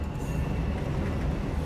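Train riding on tracks just before Harlem: a close, continuous heavy rumble of a moving railcar with a faint steady high whine, no voices.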